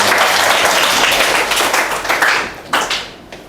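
A classroom bursts into loud, dense applause from many hands, holding steady before thinning out into a few scattered claps.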